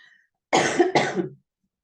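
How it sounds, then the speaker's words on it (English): A single close, harsh cough in two bursts, preceded by a brief faint sound, then silence. "I'm so sorry for the coughing."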